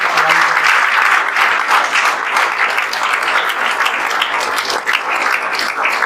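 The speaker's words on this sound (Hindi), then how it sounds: "आपके दोस्त आपके लिए ताली बजा रहे हैं सब" Steady, loud applause from an audience at a coaching-class ceremony honoring a student's JEE Main 2024 result, dense clapping filling the room evenly throughout with no break.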